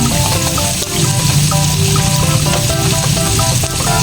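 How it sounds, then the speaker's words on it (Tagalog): Ingredients for pork sinigang sautéing in a hot pan, a continuous loud sizzle and hiss with small crackles and pops throughout, close up and without talk. "So, gisa-gisa lang natin."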